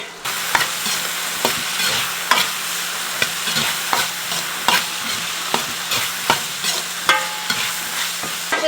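Meat sauce with chili powder stir-frying in a wok, a steady sizzle broken by repeated sharp scrapes and clacks of the spatula at a regular rhythm, close and fairly loud.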